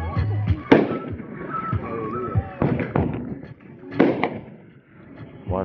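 Sorcerer 9-shot 500g fireworks cake firing uneven shots, with several sharp bursts and crackles spaced irregularly over a few seconds, while people talk throughout.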